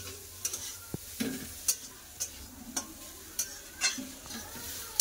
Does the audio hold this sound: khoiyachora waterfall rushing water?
no